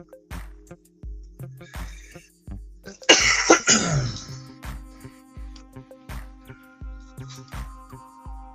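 A single harsh cough with throat clearing, close and loud, rising over a repetitive rhythmic background of soft thumps and tones, in a garage.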